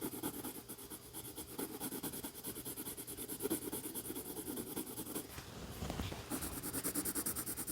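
Soft, rhythmic scratching of a pencil shading on paper in quick back-and-forth strokes, faint and close, over a steady high background hum and a neighbor's saw.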